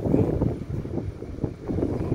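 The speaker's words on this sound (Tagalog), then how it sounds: "Ang hangin ngayon, ang lamig." Strong, cold wind buffets the microphone outdoors, producing a continuous low rumbling roar that swells and eases in gusts, with no voices over it.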